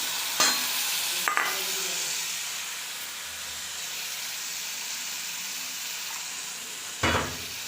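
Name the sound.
frying cumin, ginger and garlic paste in a pan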